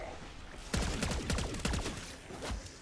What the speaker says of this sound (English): We gotta shoot his arm.